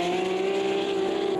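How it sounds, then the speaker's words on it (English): Race car engines in a classic racing video game, a sustained droning engine tone holding steady pitch over a short stretch, fairly loud with no voices. "so we can hear what is happening with these engines."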